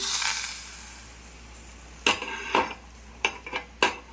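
Hot phodni tempering poured into a khamang kakdi cucumber salad gives a short soft hiss, followed by several sharp, close spoon clinks against the dish in a quiet kitchen.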